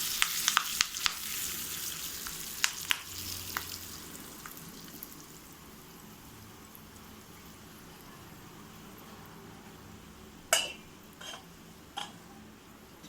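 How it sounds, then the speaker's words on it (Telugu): Curry leaves dropped into hot oil in a tempering for coconut chutney, crackling and sizzling loudly at first, then settling into a faint, steady fry with a few sharp pops later on. "కొద్దిగా కరివేపాకు కూడా వేసుకుందాము."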